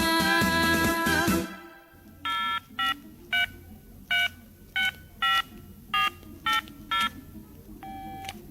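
Mobile phone dialing a disconnected number: a run of about ten separate evenly spaced keypad tones, each brief and clear, following a loud burst of music, over a quiet background.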